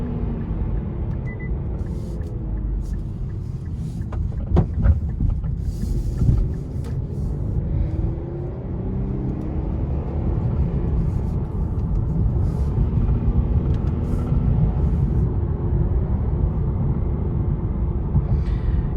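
A 2020 Infiniti Q60 Red Sport 400 accelerates after a downshift, heard from inside the cabin as a loud, steady engine rumble that rises and swells over road noise.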